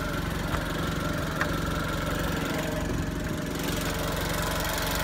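A 2016 Jeep Renegade Dawn of Justice Special Edition engine running with the hood open near the intake, a steady close mechanical drone with a regular low pulsing throb and no talk.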